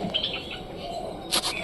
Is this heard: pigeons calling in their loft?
yes